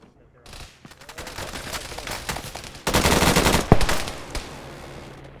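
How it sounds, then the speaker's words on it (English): A helicopter strafes a building with machine gun fire in Arma 3: rapid rattling bursts grow into a sharper, louder stream about halfway through, then trail off into scattered shots. "Interesting choice of their heli to strafe the building they were in."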